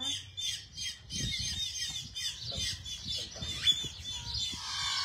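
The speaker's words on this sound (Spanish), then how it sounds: "Hasta los pajaritos están contentos." Several small birds squawk and chirp repeatedly in quick, bright bursts outdoors, fairly close and overlapping, over a low rustling background without speech.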